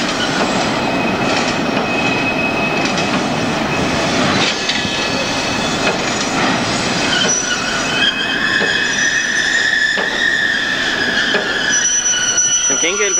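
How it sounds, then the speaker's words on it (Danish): Trains roll aboard a Danish rail ferry, the Danlink, with loud, continuous metallic wheel squeal and rhythmic clatter over the rails, the screeching growing sharper and more sustained toward the end. "når togene kører ombord"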